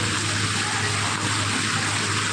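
River water rushing steadily past the stone-lined Ram ki Pairi ghat in Ayodhya, a loud, continuous broadband flow with no pauses or voices.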